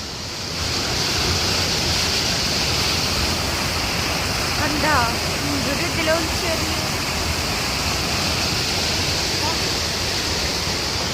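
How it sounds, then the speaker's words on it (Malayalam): Steady broadband roar of a rushing flooded river on a heavy rainy day, loud and continuous, with brief bird-like chirps midway. "വെള്ളത്തിന്റെ രൗദ്രഭാവം"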